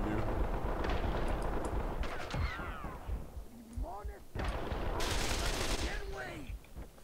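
Gunfire in the video game Call of Juarez: The Cartel comes as dense, loud bursts of shots and booming blasts, continuous and close, with voices talking and shouting over it.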